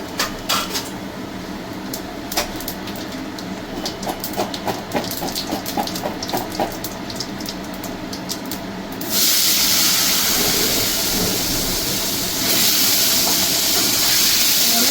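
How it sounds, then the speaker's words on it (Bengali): Cumin seeds go into hot oil as the base for a raw banana and potato curry, first crackling and popping in quick bursts, then breaking into a loud, steady sizzling hiss. "আমি একটু জিরে ফোড়ন দেবো, যেহেতু কাঁচকলা আলু তরকারি তাই আমি জিরে ফোড়ন দেবো"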